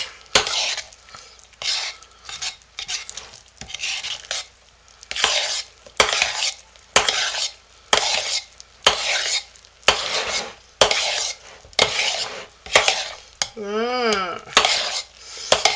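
Hot process soap batter stirred in a pot, a steady rhythm of scraping, sloshing strokes repeating every second or so, close and loud, with no one talking.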